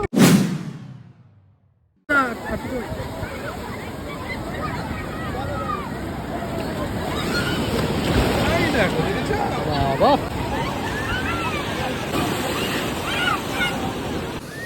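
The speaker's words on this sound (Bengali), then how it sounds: "আর কেমন ঢেউ ছিল তোমরা হয়তো দেখেছো" Sea waves crash and roll onto the shore at Puri beach in a loud, continuous rush with wind and distant crowd hubbub. A short voice comes first, then the surf cuts in abruptly and swells steadily.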